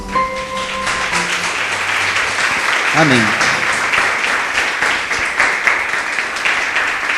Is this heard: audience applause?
yes